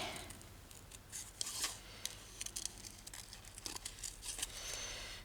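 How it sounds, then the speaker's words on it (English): Scissors snip through paper in quick irregular bursts while fussy cutting pieces for a nature journal craft, the crisp close cuts alone against quiet room tone. "I'm going to have to cut these bits."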